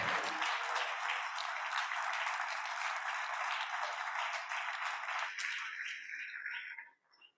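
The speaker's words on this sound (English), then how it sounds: "if you'd give one more round of applause for the Boys and Girls Club and all that they do." Members in a state legislative house chamber give a full, sustained round of applause during a floor session, loud and even for several seconds before it thins and stops abruptly near the end.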